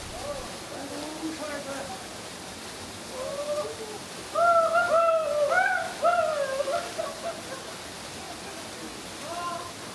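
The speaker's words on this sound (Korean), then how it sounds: "바로 막장 폭포입니다" Makjang waterfall, hidden in a rocky gorge where a cliff blocks the valley, gives a steady broadband rush of falling water throughout, with bird calls and possible voices rising over it midway.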